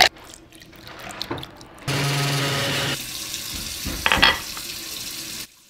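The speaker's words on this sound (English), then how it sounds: "that's just cold water running" Cold water runs from a kitchen tap in a steady, close, loud stream for about a second, between bursts of clattering handling noise and softer, fainter sounds, with no speech.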